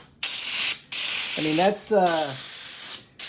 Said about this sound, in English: this has enough power that I can do it with just my airbrush and high pressure